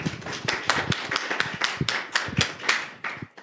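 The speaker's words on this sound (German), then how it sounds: "das ist dein Applaus" Audience applause greets a lightning talk on Inkscape basics at Jugend hackt in Ulm 2018: steady, dense clapping from many hands, fairly close and lasting several seconds without talk.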